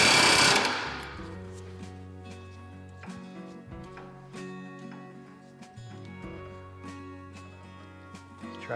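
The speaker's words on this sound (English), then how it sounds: "long reach hammer, air hammer, with a little hammer tip on it" A long-reach pneumatic air hammer with a small hammer tip batters a ball joint on a Toyota Tacoma, a rapid, steady mechanical rattle that starts with a loud blast of air and continues close by.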